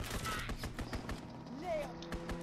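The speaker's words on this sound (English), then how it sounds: "Fighter pilot inbound, strafing the target." Rapid fighter-plane strafing gunfire in the Call of Duty WWII game, a steady stream of close cracks and pops under a low engine drone, with game voices and other battle noise mixed in.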